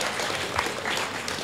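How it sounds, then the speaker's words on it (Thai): Audience applause for the interpreter at a documentary film event: a steady wash of clapping from a crowd, sustained and fairly even throughout without distinct individual claps. "ขอเสียงปรบมือให้คนแปลดังๆรอบนึง"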